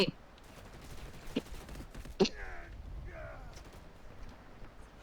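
Video game gunfire in bursts, a few sharp cracks followed by short rattling volleys, fairly faint behind a voice.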